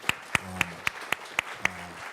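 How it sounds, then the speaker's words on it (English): Applause at a festival discussion panel, heard as about eight sharp, evenly spaced claps in a steady rhythm, fairly close, over a faint low room murmur. "Another round of applause for Karen Thorsen, please."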